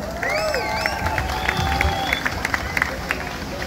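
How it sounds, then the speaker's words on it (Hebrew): Wedding guests clapping and cheering for the groom, a steady spread of applause with crowd murmur and a few whistles, moderately distant and under some chatter. "מחיאות כפיים לחתן"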